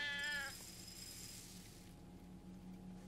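A cat in the survival game Sheltered gives one short, clear meow, then a quiet, steady background hum continues with no talk.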